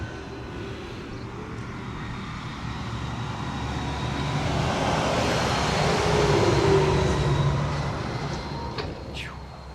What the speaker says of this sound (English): Big tractor going down the old road there.